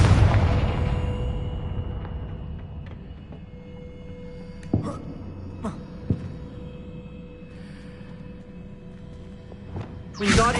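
A Confringo blasting spell in the game Hogwarts Legacy: a booming burst opens, several smaller pops follow amid a low ambient hum, and a second heavy blast lands near the end.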